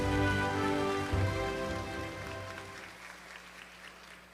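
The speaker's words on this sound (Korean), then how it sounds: "박수로 맞이해 주시기 바랍니다." Audience applause fills a ceremony hall at a March 1st Independence Movement Day commemoration in Jeju, steady and dense with strong musical tones beneath, fading toward the end.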